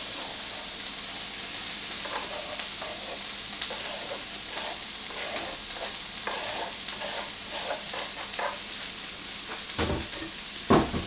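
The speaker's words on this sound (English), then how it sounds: "Now I'll put in the celery. carrots." Chopped celery and grated carrots tossed into an oiled pan for a mild vegan sausage curry, sizzling steadily with repeated scraping stir strokes and a louder clatter near the end.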